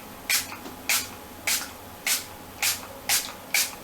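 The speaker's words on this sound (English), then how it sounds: "Oh, that seems like quite an aggressive spray." Makeup setting spray pumped onto a face, seven short sharp hissing spritzes in a fairly even rhythm, close and distinct against a quiet background.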